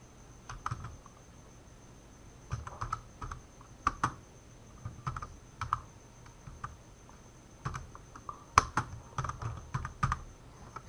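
Typing on a computer keyboard while composing an Amazon gift card design, with irregular bursts of close, crisp key clicks separated by short pauses and a faint steady tone behind.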